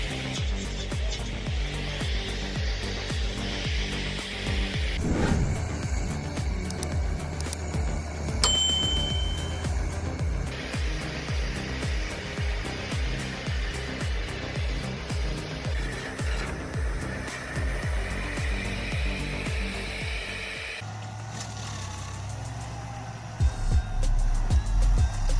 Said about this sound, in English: The Rayco RG80 grinds stumps with ease, reducing even the toughest roots to mulch in minutes.